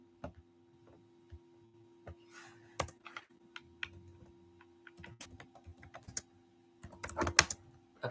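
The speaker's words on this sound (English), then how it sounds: "I'm going to type that in the chat bar" Someone types on a computer keyboard in a quiet room, with sparse, soft key clicks in short irregular runs that end in a brief flurry.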